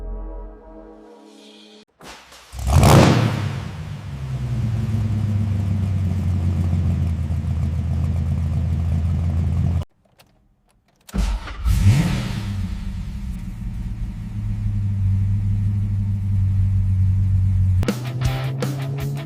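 A restored 1997 Plymouth Prowler custom car starts up with a sharp crank and roar, then settles into a deep, loud idle; after a brief silence it fires again, revs, and rumbles steadily close by.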